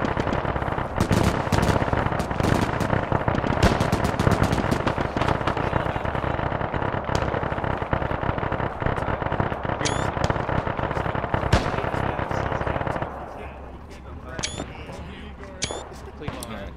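Rapid machine-gun bursts and scattered gunshots from German soldiers with seemingly endless ammo in a Belorussia battle in a military video game, dense near and distant firing that eases off near the end, with voices talking over it.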